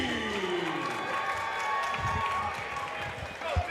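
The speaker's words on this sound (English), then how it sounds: "Schulte, a hometown boy, getting the good ovation here from the crowd" Crowd ovation and applause in a Madison, Wisconsin fight venue for hometown mixed martial arts fighter JT Schulte, steady and moderately distant, with a commentator talking over it.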